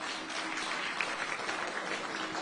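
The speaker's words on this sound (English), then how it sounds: "I think the discussants deserve a great round of applause." Applause for the discussants at a panel event, a short stretch of steady clapping from an audience, moderately faint and continuous.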